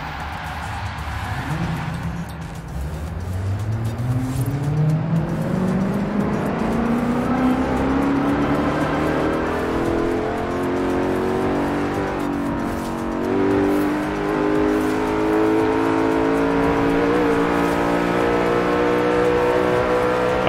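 A Koenigsegg Regera in Forza Horizon 4 accelerates hard, its engine note climbing in a long, smooth rising whine that keeps building and stays loud and close.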